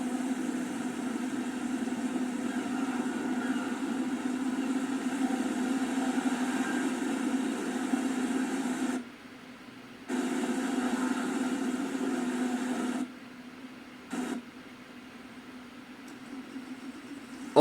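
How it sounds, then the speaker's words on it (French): A Challenger tractor engine idles in the Farming Simulator 25 video game, a steady mid-low drone that holds for long stretches and drops out briefly twice before returning. "le Challenger fait un peu de bruit quand même"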